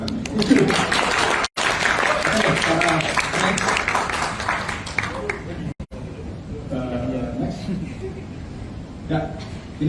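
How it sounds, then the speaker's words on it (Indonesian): An audience at an ASUS Indonesia tech event breaks into loud, dense clapping that gradually thins out, with voices and chatter mixed in underneath. "Jadi kalau mau tepuk tangan boleh"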